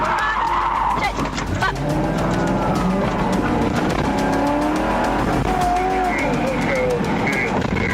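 A stolen car speeds away at full throttle during a police chase, with a loud, continuous engine roar and tire noise throughout, and a voice speaking over it.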